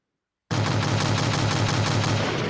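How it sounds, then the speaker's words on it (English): Gunshot sound effects played back loudly after a brief silence, a dense continuous burst of rapid automatic gunfire lasting about two seconds with no talking. "Hold on, I got some gunshots"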